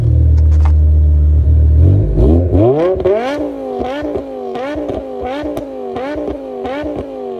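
A six-speed manual BMW M5 V10 with Corsa exhaust idles with a deep burble, then revs up repeatedly in a rising, rhythmic series of loud throttle blips, close by.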